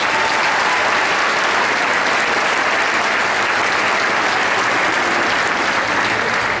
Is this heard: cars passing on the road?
no